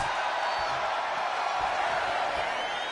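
A wrestling arena crowd cheering, a dense, steady roar of many voices with scattered whoops, carrying on without a break.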